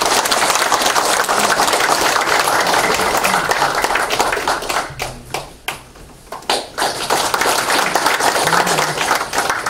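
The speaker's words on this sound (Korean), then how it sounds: "박수 부탁드리겠습니다." Party members applauding in a meeting hall, steady dense clapping that thins briefly into a few scattered claps before swelling again.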